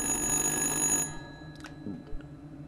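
Old-fashioned telephone bell ringing in the video game Little Hope, a loud continuous metallic trill that cuts off after about a second, followed by quieter game sounds and faint taps.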